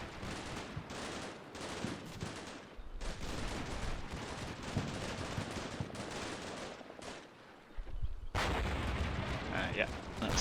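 Artillery fire support in the Combat Mission Shock Force 2 war game booms as a dense, continuous barrage of blasts and gunfire. The salvos roll on for several seconds, fairly faint overall.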